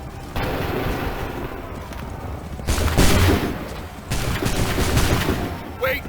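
Soldiers in Assassin's Creed 3 fire musket volleys, loud crackling bursts of gunfire in several waves, each rolling out over a second or two, with heavy booms and a thick battle din between them.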